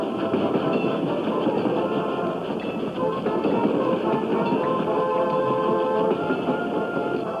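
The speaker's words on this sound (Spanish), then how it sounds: "Los trenes repletos de soldados se acercaban a la capital." Trains packed with soldiers approach a capital city in early twentieth-century Mexico, a steady dense rumble with faint clickety-clack running through all seven seconds under a busy wash of noise.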